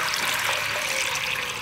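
A steady, full rush of 1.5 litres of water pouring into a cooking pot in a kitchen, close and continuous throughout with no speech.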